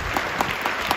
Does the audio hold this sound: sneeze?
no